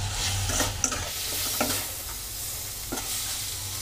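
Mixed vegetables for sewai stir-frying in a pan, a constant close sizzle with a few sharper scrapes and clinks of a spoon against the metal at irregular intervals, no talking.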